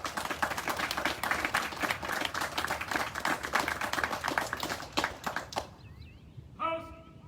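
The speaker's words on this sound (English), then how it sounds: "Ladies and gentlemen, please join me in a round of applause for our award recipients" A ceremony audience applauds award recipients at a military training company completion ceremony: dense, sustained clapping for about five seconds that stops abruptly, followed by a brief tone.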